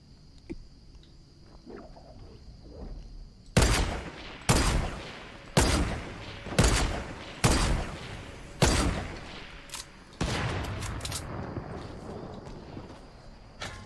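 Semi-automatic rifle fire in a video game: a quiet lead-in, then seven loud, evenly spaced single shots with short ringing tails, followed by a longer sustained blast and rumbling echo.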